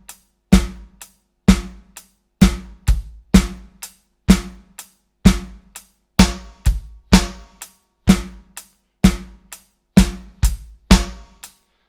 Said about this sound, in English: We have to start adding 8th note hi-hats at the same time.